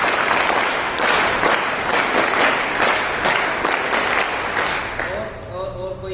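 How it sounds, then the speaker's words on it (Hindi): Sustained applause from an audience at a Gurukul school gathering in Malakpet, Hyderabad, honouring a young student; a steady, dense wash of clapping fills the whole stretch, easing slightly toward the end. "इसके लिए भी एक बार वेदांत के लिए तालियां बजा दें।"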